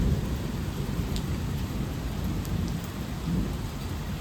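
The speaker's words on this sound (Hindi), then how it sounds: "मेघराज जितना बरस नहीं रहा उससे ज़्यादा तो गरज जा रहा है।" Heavy rain pours steadily through the whole stretch with a low, continuous thunder rumble rolling underneath, loud and close, no voices.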